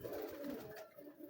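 Soft, low pigeon cooing, a steady throaty murmur close by with no talking.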